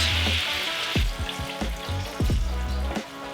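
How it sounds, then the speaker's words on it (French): Dry white wine poured into a hot pan of garlic chicken for deglazing, a loud burst of sizzling with sharp crackles and scraping clicks over a few seconds, no talking. "Et là on déglace, on décolle les jus de cuisson"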